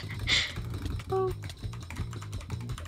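Clicky computer keyboard typing and mouse clicks during an online game duel, a steady run of quick, close, fairly faint taps and clatter with a brief louder burst near the start.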